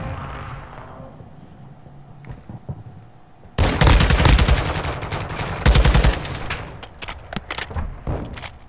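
After a few quiet seconds, loud automatic gunfire erupts in a first-person shooter video game, with a sustained burst followed by a string of sharper single shots that trail off.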